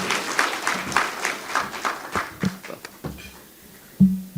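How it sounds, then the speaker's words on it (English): Audience clapping at a sustainability report launch as a speaker comes on stage, individual claps distinct and thinning out, fading toward sparse hands with a couple of thumps near the end. "A round of applause to her as she comes."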